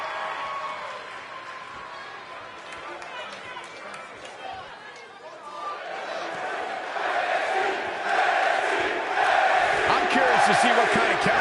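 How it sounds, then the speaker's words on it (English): A wrestling arena crowd before a tag-team match, a broad roar of cheering and chatter that swells louder toward the end, with commentators talking over it. "it sounds to me like the crowd is more than ready for this one"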